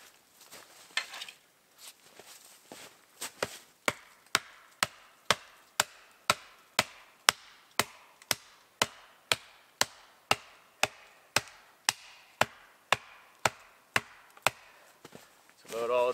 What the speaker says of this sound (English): Not that I think these poles will stand up to much more hammering.